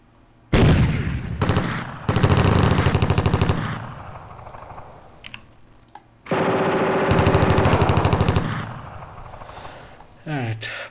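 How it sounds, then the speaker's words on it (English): Suppressive fire in the computer wargame WinSPMBT, loud rapid machine-gun bursts in several separate strings with short gaps between them, ending with a few single shots. "let's try suppressive fire."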